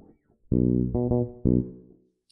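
Fretless bass with its tone knob fully closed, played as a few sustained, dark and muffled notes, close and alone after a brief soft note at the start.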